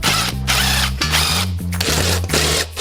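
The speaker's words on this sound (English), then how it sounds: "just putting a bevel on the hole so the screw will slightly recess in" A larger drill bit bevels a screw hole in the wedge of a beetleweight combat robot, a steady whirring power-tool drone broken by several short pauses and restarts, loud and close with no talking.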